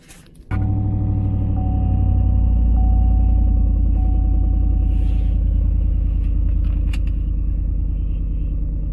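A supercharged 2015 Chevrolet Silverado cranks briefly, then fires on a cold start into a deep, loud, rumbling idle that holds steady close by.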